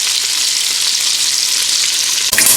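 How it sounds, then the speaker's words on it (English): Salt pork frying in a pan for stewed cream peas, a steady loud crackling sizzle that runs continuously, with a brief clatter near the end. "salt pork and let that fry"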